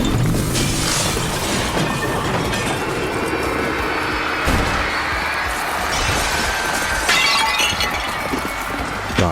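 Glass shatters and crashes as a horror story effect, a loud, dense burst of breaking and clattering debris with repeated crashing hits across the whole stretch.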